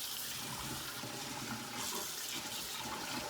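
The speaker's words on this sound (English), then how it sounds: "Always wash your rice off." Running water streams steadily over rice being rinsed, a continuous soft hiss and splash from a faucet at low volume with no talking.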